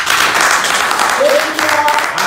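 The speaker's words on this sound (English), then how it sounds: "I think they deserve a round of applause." A brief round of applause from a gathered crowd at a live Nigerian talk event, dense clapping throughout with a voice briefly audible over it.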